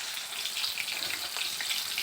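Small fish frying in a pan, a steady close hiss and crackle of sizzling oil holding even throughout, with no voices.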